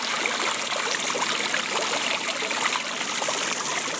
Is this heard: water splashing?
yes